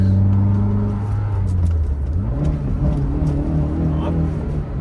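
A 1986 Mercedes-Benz 190E-16V engine revs in second gear, a close, steady droning hum whose pitch climbs and shifts as it is driven, with a voice speaking over it.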